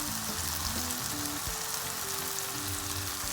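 Smoked herring hits tomatoes softening in hot oil, setting off a loud, steady crackling sizzle up close that runs without a break, with the stirring faint beneath it.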